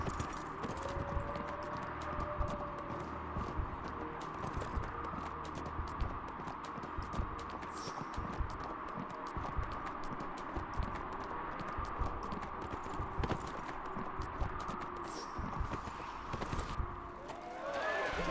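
Horse hooves clip-clop steadily in the video game Neverwinter, a continuous rapid trotting rhythm over a constant low hum, with faint jingling and no talking.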